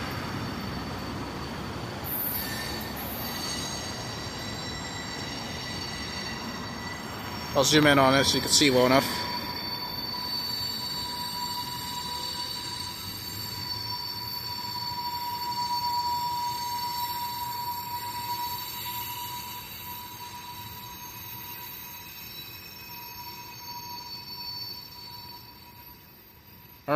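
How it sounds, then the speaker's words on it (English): A train rolling past a railroad crossing, a continuous low rumble of wagons with a steady tonal hum, a burst of squealing wheels partway through, and someone speaking briefly over it. "And there goes the train."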